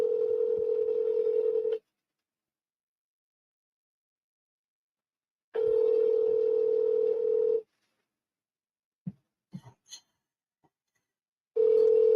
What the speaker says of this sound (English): So I'm just going to call, see if we can have that conversation.